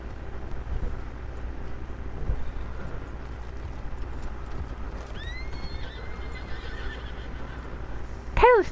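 A horse in the Red Dead Online video game clip-clops along steadily, then whinnies twice, the second neigh loud and close at the end, with voices talking faintly over the game sounds.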